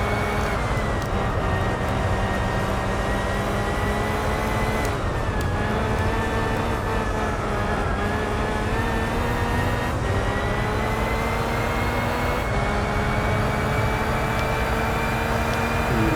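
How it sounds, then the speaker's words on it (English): A car engine in Gran Turismo 4 Spec II revs steadily and continuously throughout, with rising and shifting engine harmonics as the car accelerates, loud and up close with no talking. "it sure accelerates almost as fast as an R1"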